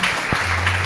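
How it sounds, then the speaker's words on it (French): Congregation applause inside a church: a brief stretch of dense, even clapping, fairly loud, with a low steady hum underneath. "Nous applaudissons"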